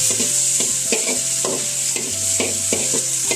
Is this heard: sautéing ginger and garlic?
yes